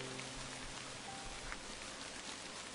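Gentle rain produced by a weather device patters evenly, a low, continuous wash of drops with occasional louder ticks, heard alone.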